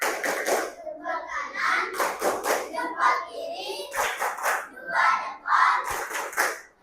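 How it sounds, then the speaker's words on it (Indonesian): Rhythmic group clapping chant in an Indonesian classroom, children clapping a patterned 'tepuk hebat' routine in quick bursts mixed with young voices chanting along, close and lively. "kita kasih tepuk hebat dulu ya buat anak-anak hebat yang"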